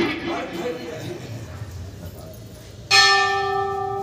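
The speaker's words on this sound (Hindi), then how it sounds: "अब भाई घंटी बजी" A temple bell rings out once during a puja at a devotional recitation gathering, a loud close strike with a long sustained ringing tone, following a stretch of background talk.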